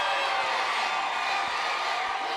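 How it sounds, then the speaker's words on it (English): Spectators at a girls' 3A championship basketball game cheer for the Alchesay Falcons, a continuous loud roar of crowd noise filling the gym without a break. "And more of this crowd getting involved for the Alchesay Falcons."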